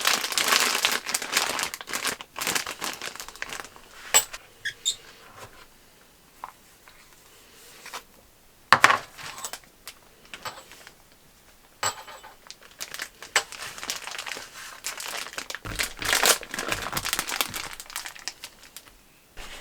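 A plastic Ziploc bag is handled and crinkled while a cake is being prepared, producing irregular bursts of crackling rustle with quiet pauses between, close to the microphone.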